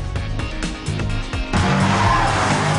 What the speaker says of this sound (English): It's amazing driving the new M5 with Claudia around the Nürburgring.